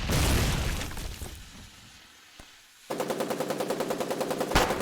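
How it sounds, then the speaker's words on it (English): Machine gun fire in the war game Foxhole comes as a rapid, evenly spaced burst of loud shots near the end, after an earlier heavy blast that fades into a brief quiet. "There's a machine gun here."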